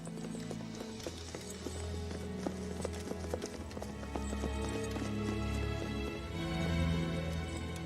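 Steady clip-clop of horse hooves trotting in an even rhythm, layered under continuous music with a swelling orchestral tone.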